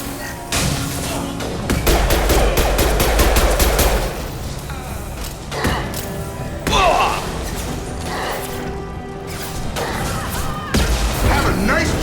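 Weapons fire in the sci-fi shooter Mass Effect 2 arrives as rapid automatic bursts and heavy impacts, loud and close, alongside clanking game effects, with speech heard at points in the mix.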